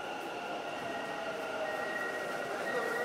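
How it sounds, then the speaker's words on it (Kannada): A Bengaluru Yellow Line metro train runs between RV Road and Bommasandra, a steady rolling hum with sustained high whining tones from the motors and wheels, heard from inside or close by at even loudness. "ಆರ್ವಿ ರಸ್ತೆಯಿಂದ ಬೊಮ್ಮಸಂದ್ರದವರೆಗಿನ ಹಳದಿ ಮಾರ್ಗದ ಮೆಟ್ರೋ ಸಂಚಾರ ಶುರುವಾಗಿದೆ"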